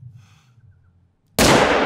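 In the video game theHunter: Call of the Wild, a quiet stretch of faint background noise, then a single sharp, loud rifle gunshot bursts out and rings on with a broad, sustained blast.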